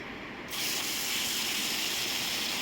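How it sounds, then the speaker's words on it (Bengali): Fish frying in a pan of oil in a home kitchen, a steady broadband sizzle that jumps louder at the start as the fish goes in, then holds at an even, close level with no talk. "এই যে মাছ ভাজা বসিয়ে দিলাম"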